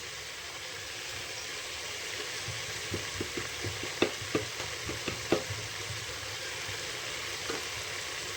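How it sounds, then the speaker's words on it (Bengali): Potato and pumpkin curry with salt sizzles steadily in a pan, a continuous frying hiss broken midway by a run of sharp spoon scrapes and taps as the mixture is stirred, then settling back to an even sizzle. "লবণ দিয়ে ভালো করে কষিয়ে নেব।"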